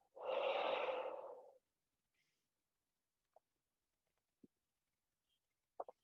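A person breathes out deeply during a yoga session, one long, close, breathy exhale lasting about a second and a half, followed by near silence with a few faint soft clicks.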